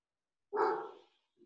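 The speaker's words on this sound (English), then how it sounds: "My dog can probably hear your dog barking." A dog lets out one sharp bark, mid-loud and slightly distant, then falls quiet. A much fainter yip follows a moment later.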